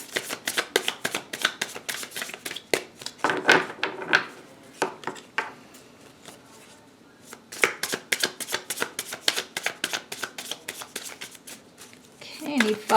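Tarot cards being shuffled and laid down in repeated quick riffles and soft slaps, close and crisp, with pauses between bursts and a voice speaking at times.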